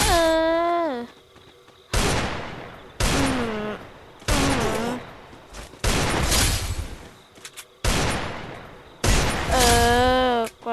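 Pistol fire in the Free Fire battle royale game arrives as repeated bursts of loud shots in short volleys with brief pauses between them. Ringing, wailing tones sweep over several of the bursts.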